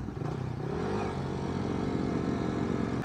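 A Benelli 600i motorcycle engine drones steadily on a highway ride, a continuous loud rumble with wind and road noise throughout, no talking.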